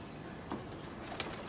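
A male teddy breeder pigeon coos in a few soft, brief, low calls against a faint background.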